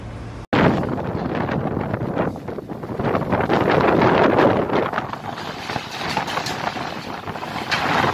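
Strong wind at Merak harbour buffets the microphone in loud, gusty roaring bursts that swell and ease, with no talk.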